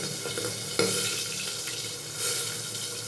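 Pabda fish frying in a covered pan, a close, steady sizzle with occasional pops and small knocks against the pan, heard alone with no talk.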